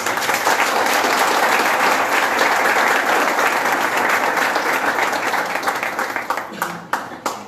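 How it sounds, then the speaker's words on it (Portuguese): A congregation at a church theme-week evening welcomes a speaker with warm applause, dense and sustained from start to finish before thinning slightly at the end. "Acolhamo-lo em nosso meio com uma calorosa salva de palmas"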